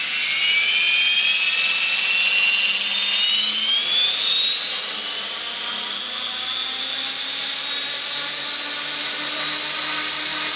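An RC helicopter's rotor and motor whine steadily on a test stand, a loud high-pitched hum that slowly rises in pitch as it spins up, heard alone and up close.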